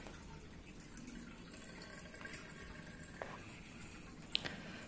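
Water from the outlet pipe of a Hikari HK-104 or HK-103 submersible pond pump runs in a steady, faint rushing wash, with a few soft splashes near the end.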